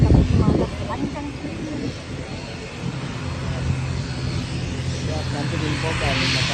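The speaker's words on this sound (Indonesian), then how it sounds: "Ini pesawat ini guys." A passenger propeller airplane sits with its engine droning steadily, loud and close, while someone talks over it at the start and the engine note builds slightly toward the end.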